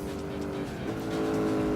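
A Buick Special race car in Gran Turismo 4 holds a steady, loud engine drone with a continuous harmonic hum that stays even throughout, with no break or pass-by.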